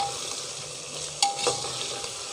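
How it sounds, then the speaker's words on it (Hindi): Onions and chopped chillies are stirred gently in a pressure cooker for dum biryani, giving a soft scraping and stirring sound over a faint sizzle of frying, with one brief sharper clink partway through. "उसको फिर हम हल्का सा चलाएंगे ऐसे करके, ऐसे ये चलाते जाएंगे हल्का हल्का"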